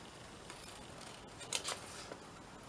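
Scissors cutting through a paper bag: a few quiet snips and crisp crunches, with two brief louder cuts midway, close and alone with no talk.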